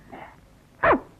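A person's voice imitating a dog barking, giving one short, loud bark-like burst close by after a faint breathy sound.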